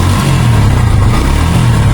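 Close, loud, steady rumble of a 2023 Suzuki Gixxer Monotone motorcycle engine idling evenly for two seconds with a low throbbing tone.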